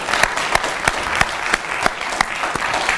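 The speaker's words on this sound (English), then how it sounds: "Let's give them a warm round of applause" An audience at a law school Title VII symposium applauds a panel, with a bed of clapping cut by sharp, evenly spaced loud claps close by.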